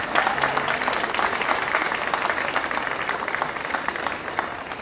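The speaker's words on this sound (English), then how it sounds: "Yes, you can applaud yourselves." Outdoor crowd at the AIDS Walk 2014 opening ceremonies in New York applauding, loud sustained clapping from many people, dense and even from start to finish.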